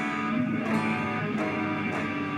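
Guitar strummed with unmuted strings ringing together, a dense, messy wash of sound with a few strum accents, fairly quiet and without talk.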